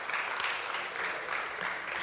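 A seminar audience claps for themselves, a continuous, even wash of applause filling the whole short moment.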